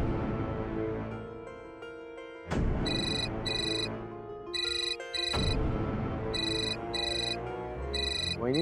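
A phone rings with an incoming call, a repeating electronic melody in regular bursts with short pauses between, close and clear over a quieter background.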